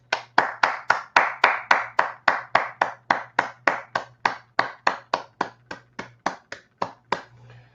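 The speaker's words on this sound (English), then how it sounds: "let's give everybody a great round of applause for these Direct Unit Leader Service Award winners" One pair of hands claps alone at a steady, even beat, about two dozen crisp, close claps over a low hum, for award winners at a virtual district dinner.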